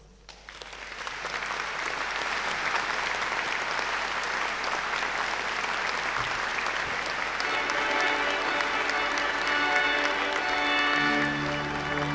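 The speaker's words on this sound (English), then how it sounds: "You all deserve a huge round of applause." A graduating class and audience give sustained applause at a university graduation ceremony, loud and dense clapping that builds quickly and holds for over ten seconds, with some crowd noise mixed in.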